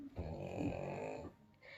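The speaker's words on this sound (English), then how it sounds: "sorry if you hear snoring." A pug dog snores softly in the background, one drawn-out rumbling breath lasting about a second before fading to quiet.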